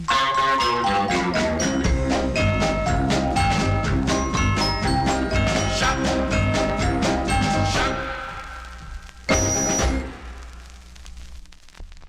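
An R&B song plays from a vinyl 45 record, a full band and vocals filling the sound steadily before fading out, followed by a brief louder burst near the end.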